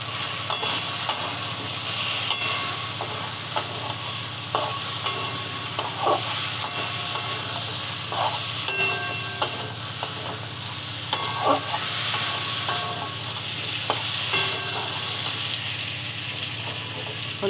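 Ginger-garlic-green chili paste with chili, cumin and turmeric powders frying alongside taro in a pan, a loud continuous sizzle with repeated spoon scrapes and clinks over about eighteen seconds, no voices.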